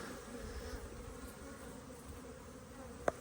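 Honey bees from production hives make a steady low buzz of a busy colony close by, with a single sharp click near the end and no voices.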